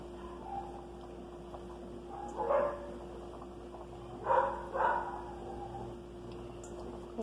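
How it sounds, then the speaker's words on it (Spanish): Several neighbors' dogs bark in short bursts at a distance, a few scattered yaps over a steady background hum while shrimp broth cooks. "perros de los vecinos, no vayan a creer que son mis perros"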